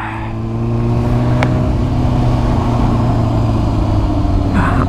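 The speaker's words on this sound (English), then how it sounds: "Hearing that exhaust rumble." Steady low motorcycle exhaust rumble while riding on a snowy day, a continuous droning engine tone that builds in the first second and then holds evenly, close and loud with no talking.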